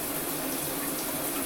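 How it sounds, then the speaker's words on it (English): Shower water runs steadily into a tub while a plumber clears the tub and shower drain, giving a constant even hiss and spatter with no voices over it. "once you get the shower going"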